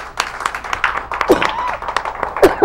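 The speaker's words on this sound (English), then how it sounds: "Round of applause," Scattered applause from a small audience at a local evening talk show, a few distinct claps with uneven rhythm and some voices over the top.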